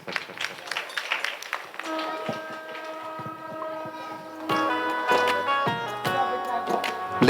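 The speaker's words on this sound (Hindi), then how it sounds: "आप लोग अपने स्थान पर ताली बजाते जाएं इन सबके लिए" School audience at an Independence Day celebration clapping in bursts of scattered applause, alongside a sustained tonal music or horn-like sound and occasional voices.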